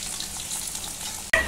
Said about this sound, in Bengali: এখানে মাছের মাথা ভাজা হচ্ছে।